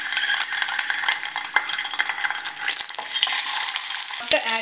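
Eggs slide one by one into a little hot oil in a pan for egg masala, sizzling steadily and close up, with a few scrapes and light clinks near the end.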